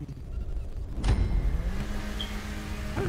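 A car drives in GTA 5, its engine running as a low steady rumble, with a brief whoosh and a rising mechanical whine partway through.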